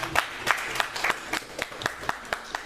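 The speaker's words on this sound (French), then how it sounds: "Acclamons pour Jésus." A church congregation claps in a steady, fairly even rhythm of sharp hand claps, roughly three per second, moderately loud with a roomy crowd feel.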